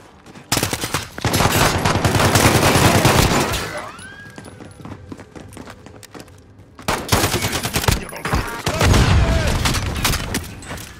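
Bursts of automatic gunfire in Call of Duty Modern Warfare multiplayer, loud and close, with a sustained barrage, a quieter lull, then another heavy volley.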